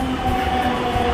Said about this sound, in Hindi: The metro is arrive.